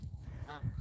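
A captive-bred pet Canada goose gives a short, faint honk, a single brief call in less than a second against low background rumble.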